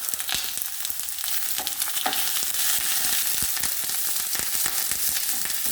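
Onions fry in a pan, a dense, steady sizzle heard close up, with crackles and scraping stir sounds and no talk.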